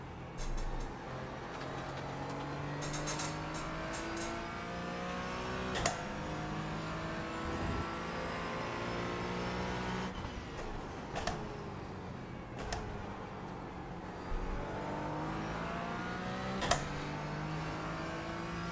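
GT4-class race car engines in the iRacing sim during the Roar before the 24 event, a continuous engine drone with rising and falling gear-shift sweeps and occasional sharp clicks, no talk.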